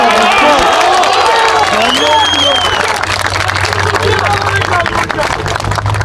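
A large crowd claps and cheers continuously at a statue unveiling ceremony as the Bursaspor coach is welcomed, a dense wash of applause with speech mixed in.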